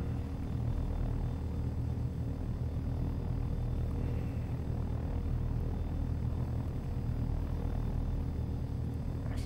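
Helicopter engine in a flight-training video game throttling up, heard as a continuous deep rotor rumble and drone that stays steady and fairly loud throughout, with no talking.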